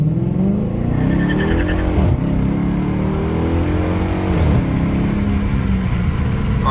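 A Dodge Charger with an open differential launches hard from 0 to 60 with wheel hop. The engine roars loud and close as it revs climb, with two brief stutters in the pull.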